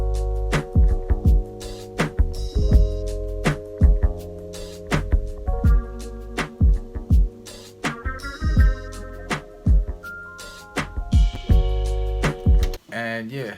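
A chopped lofi beat with punchy kicks and snaps under looping, choppy melodic sample fragments, steady and upfront, ending with a brief cut-off stutter.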